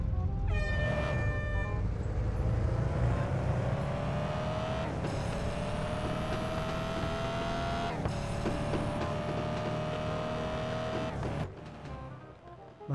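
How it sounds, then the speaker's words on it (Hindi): A cheap car's engine in a drag race video game, revving steadily with rising gear whine and brief gear-change dips before easing off near the end, loud and continuous with no talking. "इंजन को ऑन करते हैं और गियर अप करने के बाद थोड़ा सा हौले हौले आगे लेके जाते हैं इस गाड़ी को"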